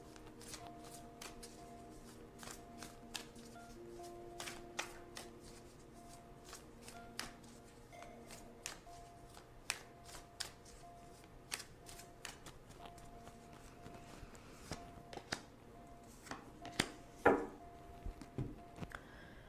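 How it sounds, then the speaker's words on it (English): Tarot cards shuffled and drawn by hand, a steady run of soft riffling slaps and clicks with a few sharper snaps near the end, close and fairly quiet, no talking. "So now I'm going to choose two cards for possible outcomes."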